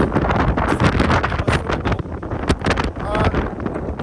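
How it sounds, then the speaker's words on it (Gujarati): Strong coastal wind at the Manukau Head lighthouse buffets the microphone in loud, rough, continuous gusts that swell and dip throughout. "પવન બહુ આવે છે, તમને મારો અવાજ ના સંભળાતો"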